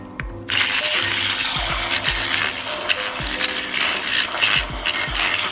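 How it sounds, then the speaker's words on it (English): Handheld electric frother whirring steadily as it froths milk and creamer in a cup, a close, continuous buzzing motor with a faint rattling texture, starting abruptly after a brief pause. "So you're just gonna froth around and get that milk all frothy as you go through"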